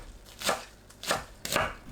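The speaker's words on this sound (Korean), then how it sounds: "양파를 채 썰어줍니다" A knife julienning onion into thin strips on a cutting board, three distinct chopping strokes spaced out with brief pauses, close and fairly quiet, no talking.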